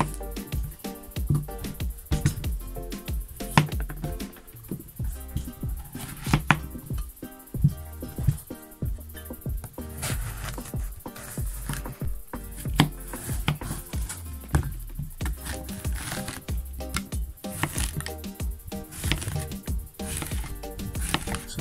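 A knife chops courgette repeatedly against a board in an uneven, busy rhythm, close by, with faint clinks of kitchen items in between.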